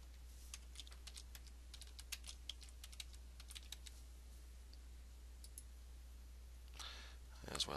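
Fingers tap out a run of quick, light keystrokes on a computer keyboard, close and faint over a steady low hum, pausing before a brief burst of rustling at the end.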